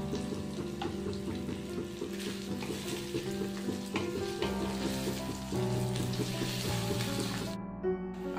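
Ginger frying in a pan on a lowered flame, a soft hissing sizzle set against a steady tonal hum in the background, fairly quiet and continuous with no speech.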